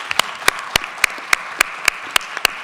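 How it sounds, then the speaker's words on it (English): A round of applause at a talk on diversified growth and development: sharp, distinct claps strike at a steady rhythm over a soft bed of wider clapping, fairly close and moderately loud, with no voices. "can we give a round of applause"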